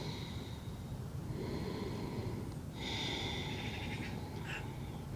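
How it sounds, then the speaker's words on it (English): Soft, slow breathing during a gentle yoga forward fold, faint inhales and exhales with a few snort-like breaths against a quiet, hissy room background. "Inhaling and exhaling"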